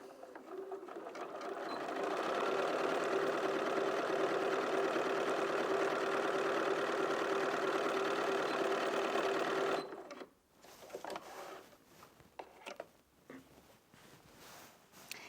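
A Bernina 475 QE sewing machine stitches through two layers of standard-weight denim, a loud, even, rapid whir for about ten seconds that then stops, followed by light handling clicks and rustles.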